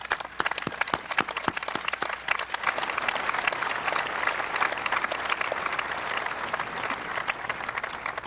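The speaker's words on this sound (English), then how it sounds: "Let's please give them a large round of applause." Large crowd at a high school graduation ceremony in South St. Paul breaks into applause, a few sharp individual claps at first building into a full, steady roar of clapping.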